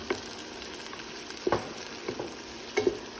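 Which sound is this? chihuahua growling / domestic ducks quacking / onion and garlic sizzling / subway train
onion and garlic sizzling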